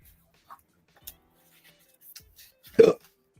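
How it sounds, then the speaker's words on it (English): A single sharp hiccup rings out close and fairly loud in a quiet room, preceded by a few faint small ticks and clicks. "Oh, we have the hiccups."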